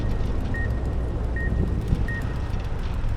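Three short, evenly spaced electronic alarm beeps from Fallout New Vegas: Dead Money ring out over a dense, steady rumbling background, with no voices.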